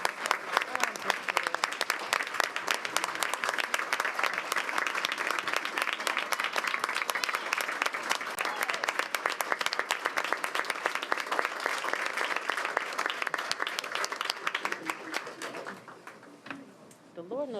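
A school board meeting audience applauds in a sustained, dense burst of clapping that holds steady for a long stretch before thinning out and fading near the end.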